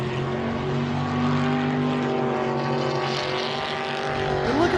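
A stock, brand-new Jeep Rubicon races at an off-road event, its engine holding a loud, sustained droning roar that swells slightly as the tires spin.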